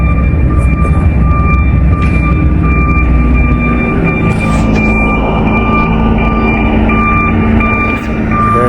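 A tow truck hauling away a pickup truck gives a steady, loud engine drone with a continuous high whine held throughout. Faint clanks and bursts of noise sit on top.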